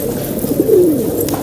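A pigeon kept by a pigeon fancier gives a low, soft coo at close range, a single murmuring phrase over a steady background hum.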